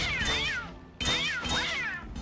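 A cat meows twice, loud and close, in the video game Sphinx and the Cursed Mummy, the two drawn-out calls following one after the other.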